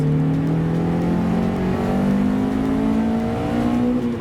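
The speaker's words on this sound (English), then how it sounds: "VTEC pulls really well." Honda Accord Type R engine pulling hard as VTEC engages, a loud, steady rising drone with climbing harmonics held for about four seconds without any talk.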